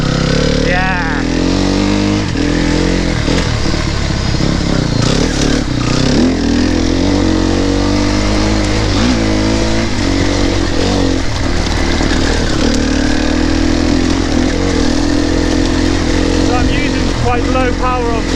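A four-stroke enduro motorcycle engine chugging at low revs on a muddy trail, loud and close throughout, with a steady rumble that rises and dips as the throttle shifts, under a rider talking.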